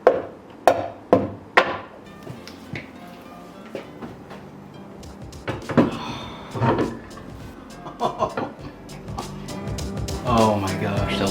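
Several sharp metallic hammer taps set a Stop Tech brake caliper bracket into place on a Subaru BRZ, loud and close in an early cluster, then scattered knocks and rattles of parts follow amid shop clatter.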